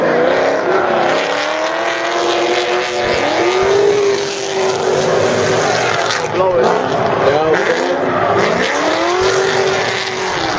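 A supercharged Nissan S13 drift car at a Formula D Pro-Am event at PBIR, its engine roaring loud on throttle with repeated rev swings and supercharger whine, and commentary running underneath.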